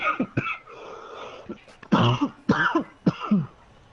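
A few sharp coughs and throat-clearing bursts close to the microphone, coming in uneven clusters with short pauses between them.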